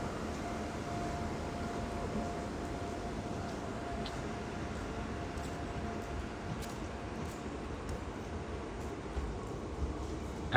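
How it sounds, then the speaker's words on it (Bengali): A Lalgola passenger train, number 53181, pulls out of Jiaganj station, heard from on board as a steady, dense rumble of wheels and carriage noise that holds even and unbroken throughout. "এক মিনিট দাঁড়ানোর পর ট্রেনটা ছেড়ে দিল।"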